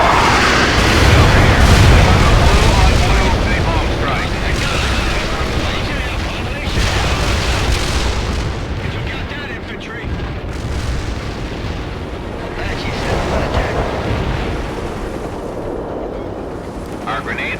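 Napalm strike in World in Conflict, loud rumbling explosions and a roaring fiery blast that swells and rolls on for many seconds, dense and close, with radio voices partly audible underneath.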